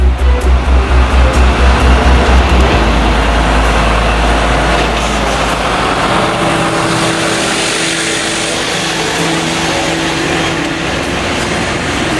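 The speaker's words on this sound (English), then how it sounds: "a nice drive today in the Mercedes-Benz Actros" A Mercedes-Benz Actros 2545 truck drives steadily, its low diesel engine drone and road rumble continuous and fairly loud throughout, with a heavier pulsing rumble at the start that settles into a smoother cruise.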